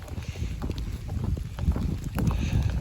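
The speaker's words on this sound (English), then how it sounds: "It's definitely raining now." Rain and wind on the Appalachian Trail in Virginia: loud, gusty buffeting and rushing noise with scattered soft pattering, continuous and close throughout.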